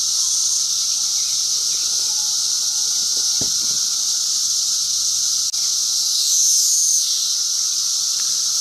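Swarm of 17-year periodical cicadas outdoors, a steady, loud, high-pitched drone that continues the whole time with little change, plus a few faint knocks and rustles nearby.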